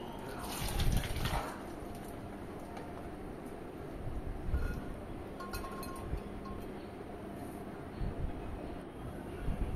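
Boiled figs tipped from a pot onto a plate, giving soft wet sloshing with a few light clinks of the dish, close by against a steady kitchen hiss.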